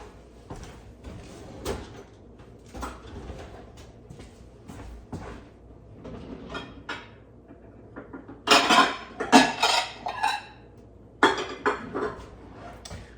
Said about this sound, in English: you know what, I'm still gonna cut it in half